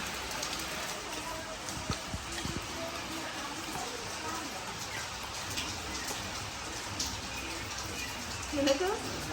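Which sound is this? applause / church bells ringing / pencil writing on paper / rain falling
rain falling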